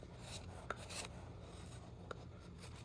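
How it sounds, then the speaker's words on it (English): Steady rasping strokes as the top of a wooden piece is trimmed down during a woodworking project, a faint, continuous scraping with two small sharp ticks along the way. "So I'm just trimming off the top to get that down to what I need."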